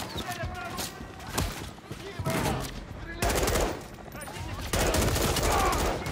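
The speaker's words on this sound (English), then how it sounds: "John got a mounted MG coming your way on an armored vehicle." A mounted machine gun on an armored vehicle in Call of Duty Modern Warfare 3 fires rapid rattling bursts, loud and close, broken by short gaps and mixed with combat noise and voices talking.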